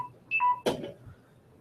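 Phone low-battery warning: a short, clear electronic beep stepping between two tones, followed by a sharp click and faint room noise.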